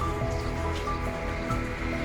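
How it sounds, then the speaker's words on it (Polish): Morning rain falls in Mostar, a dense, continuous patter of drops on surfaces, steady and enveloping with no pauses. "Deszczowy poranek w Mostarze."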